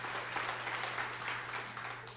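A church congregation claps together in broad, steady applause that fills the room, with a low constant hum underneath and no talk over it.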